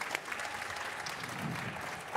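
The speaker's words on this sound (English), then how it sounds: "Round of applause." Audience applause at a gaming panel for Atlus titles, a steady wash of clapping from a crowd that carries on throughout, moderately loud and fairly distant.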